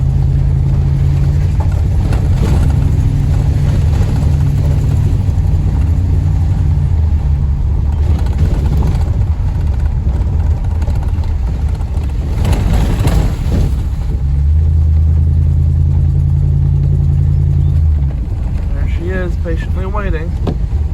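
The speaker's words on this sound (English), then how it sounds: "I get in the truck and drive down the road." A truck drives down a road on a small one-cow dairy farm, its engine a steady low rumble running throughout with road and wind noise, close and continuous.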